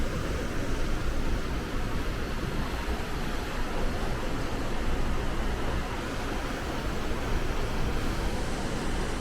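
Cruise ship wake churning at the aft of P&O Iona on a Norwegian Fjords voyage, a loud, steady broadband rush of water with constant low rumble and no break.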